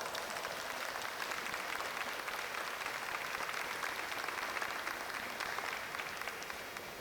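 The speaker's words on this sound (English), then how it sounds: "Give yourselves a big round of applause." Applause from a conference audience at a 2023 Tai Ji Men global prayer event, an even, continuous wash of clapping that holds at a moderate, somewhat distant level from start to finish.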